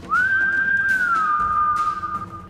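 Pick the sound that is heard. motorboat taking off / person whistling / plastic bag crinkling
person whistling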